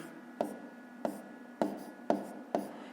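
A hand writes the fraction five fourteenths during a fifth-grade maths exercise, five short, faint scratching strokes spaced evenly in a quiet room.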